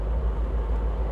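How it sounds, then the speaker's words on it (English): A diesel truck engine idles nearby with a steady, loud low rumble and rattle and no speech. "this truck behind me is diesel's rattling"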